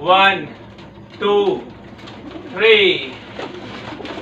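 Several pigeons, newly bought and imported from another country, coo in three distinct close bursts from inside a netted enclosure, with someone speaking between and over the calls.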